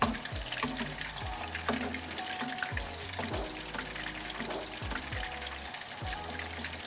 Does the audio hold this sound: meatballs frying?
yes